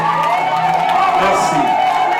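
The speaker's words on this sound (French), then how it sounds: "Est-ce qu'on peut acclamer Jésus-Christ?" Wedding guests at a church ceremony cheer and whoop together in a loud, continuous crowd roar, voices rising and blending throughout.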